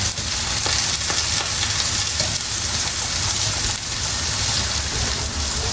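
Eggplant frying in oil sizzles loudly and steadily up close, with a dense crackling hiss and faint clicks of stirring, and no one talking.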